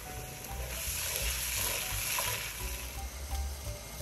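A paste of three medium tomatoes hits a hot pan of fried garlic and ginger, sizzling loudly and steadily with occasional stirring scrapes close by.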